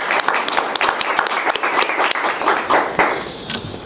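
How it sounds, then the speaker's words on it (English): A live studio audience at a television show breaks into sustained applause, dense close clapping with a few brief cheers mixed in. "Let's give them a hand."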